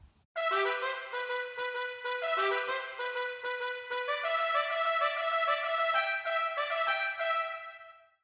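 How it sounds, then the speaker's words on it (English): A bright trumpet plays alone in a longer melodic line from a piece of music, a mix of short repeated notes and held tones. It sounds steady and close with no voices, then fades out at the end. "It's called a trumpet."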